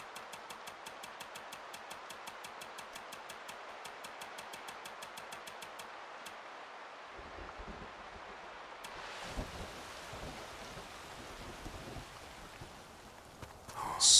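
Steady hiss of heavy rain pours throughout in the video game Way Of The Hunter 2, with a rapid ticking pattern early on that fades, then a denser, rougher wash of rain builds toward the end.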